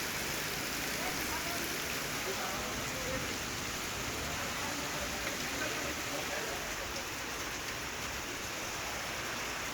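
Heavy monsoon rain pours steadily over Buldhana district, a dense, continuous hiss of downpour that stays even and unbroken from start to finish.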